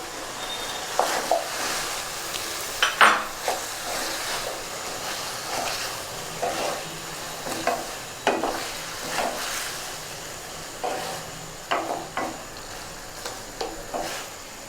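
Cauliflower and potatoes fry in a spice paste in a pan while the cook stirs, giving a steady sizzle broken by repeated scraping and clattering strokes of a spoon at irregular intervals.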